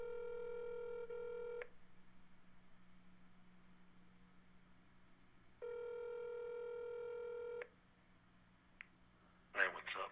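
Two long ringback tones on a phone line separated by a quiet pause, followed by a brief click and the start of a distant voice.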